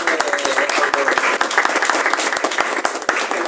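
A crowd applauds at a book presentation at a book fair, dense clapping with individual sharp hand claps standing out close by, continuous and fairly loud throughout.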